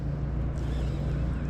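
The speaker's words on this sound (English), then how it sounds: "now that I stand up, the wind is really affecting me here" Steady wind rushes and buffets the microphone while someone stands in a kayak on the water during spring bass fishing, a continuous low roar with no clear breaks.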